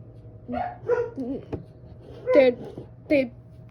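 Several dogs bark and yip in short bursts, mixed with a whimper, against a steady low hum and background talk.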